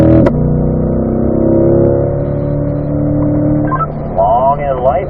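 A Corvette engine on a track straight accelerates hard through an upshift into fourth gear, a loud buzzing engine tone that pitches down briefly at the shift, with someone talking over the last second.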